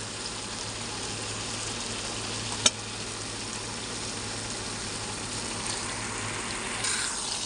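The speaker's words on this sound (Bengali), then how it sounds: "এবার আমি এই যে চিকেনটা দিয়ে দেবো।" Raw chicken tipped into a pan of hot spices for a Bengali chicken kosha, a steady loud hiss of sizzling close up, with one sharp clink partway through and no talking.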